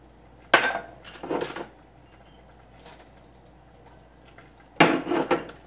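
Vegan meatballs and vegetables dropped into a cooking pot, giving a few clattering bursts of food and utensil against metal near the start and again near the end, with quiet stretches between.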